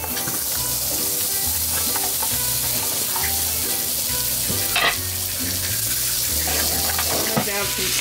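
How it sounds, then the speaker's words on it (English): Onions and apples sizzle in leftover oil in a cooking pan, a steady loud frying hiss running throughout with stirring scrapes and a brief water-like burst near the middle. "with the leftover oil, I'm gonna go ahead and toss in the onions and the apples."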